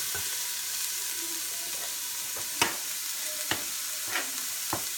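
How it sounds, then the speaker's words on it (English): Meat sautéing in a pan, a steady broadband sizzle throughout with several sharp scraping clicks of a utensil as it is stirred, close and moderately loud, no talking. "I can just kind of stir these while they're sauteing"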